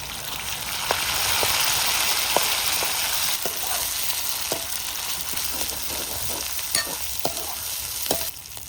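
Onion sizzles and fries in hot oil on a traditional wood-fired clay stove while besan dhirde are being made, a steady loud crackle with scattered sharp pops throughout and no talking.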